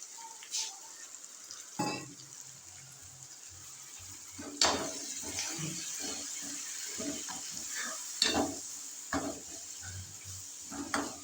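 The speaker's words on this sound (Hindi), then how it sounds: "अब डाल देंगे इसमें थोड़ा सा पानी।" Water poured into chicken gizzard masala frying in a pan, with a low steady sizzle underneath and several sharp splashy bursts and clinks of stirring scattered through, fairly quiet and close.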